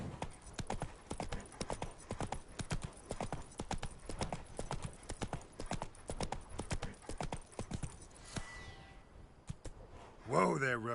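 Roach, the horse in The Witcher 3 on PS5, gallops with fast rhythmic hoofbeats throughout, easing near the end as a brief whinny and a spoken line come in over the hooves.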